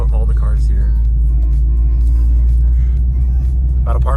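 A car backs out of a driveway at a busy morning car meet, its low engine rumble steady and close, with people talking over it.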